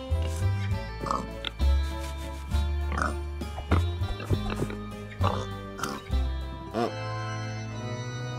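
A cartoon pig gives a series of short, repeated oinks and snorts in an animated short, loud and up close, with people talking over them and music-like tones in the background.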